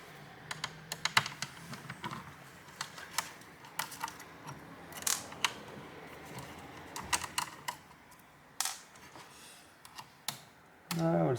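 A screwdriver works screws loose on an HP Pavilion 15-CX laptop while it is taken apart, giving scattered, close, sharp little clicks and taps with short pauses between them.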